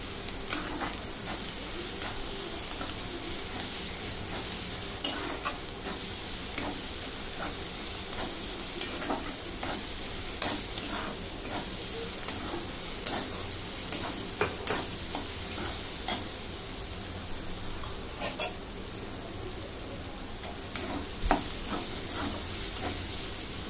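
Onion and a spoon and a half of ginger-garlic paste fry for pav bhaji in a pan, a continuous hiss broken by a spatula scraping and stirring at irregular intervals. No one speaks.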